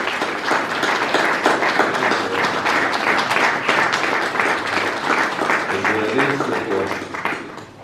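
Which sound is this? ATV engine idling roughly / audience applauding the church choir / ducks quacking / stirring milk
audience applauding the church choir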